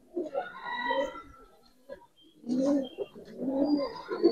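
Giribaz pigeons give soft, throaty coos in two bursts separated by a brief pause, close and clear with no other sounds.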